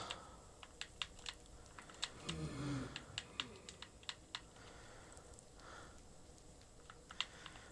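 Close, quick keystrokes on a computer keyboard, irregular clicks and taps in short bursts with brief pauses, alone against a faint background hum.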